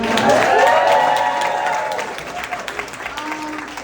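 A comedy club audience applauds and cheers in a loud burst of clapping that gradually thins out, with crowd voices mixed in.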